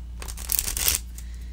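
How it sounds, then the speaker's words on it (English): A quick riffle of Art Nouveau tarot cards being shuffled, a soft papery flutter rising to a brisk burst of crisp snaps before fading to quiet. "I'm just having fun shuffling"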